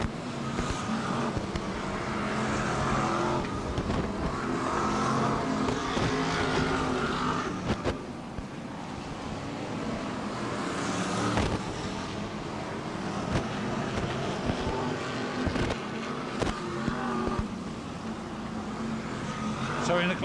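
BriSCA F1 stock cars race around an oval with a constant roar of engines, crowd and track noise, while a commentator talks over the racing throughout.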